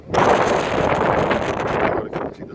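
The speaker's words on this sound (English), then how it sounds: "Super windy here." Strong wind on the shore at Mission Bay, heard as loud, continuous rumbling gusts buffeting the microphone for about two seconds before easing slightly.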